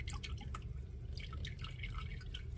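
Water trickles and drips through a tiny toothpick-mining nano siphon sluice fed by a small USB pump, giving faint, scattered close-up drips and light splashes over a soft continuous flow.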